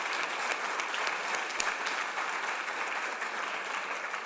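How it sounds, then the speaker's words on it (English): Audience applause at the NALEO annual conference: steady, dense clapping from a large crowd that holds evenly throughout, with occasional sharper individual claps standing out. "that deserves an applause."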